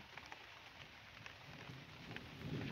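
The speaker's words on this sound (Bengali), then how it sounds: "বৃষ্টির কারণে এখন আমি চইলা যাইতেছি" Steady rain falls outdoors as a faint, even hiss with scattered drop patters and a low rumble building near the end, and no voices.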